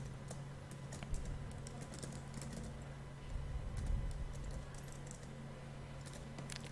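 Code being typed on a computer keyboard for a C program, soft rapid key clicks in irregular bursts, faint and close in a quiet room.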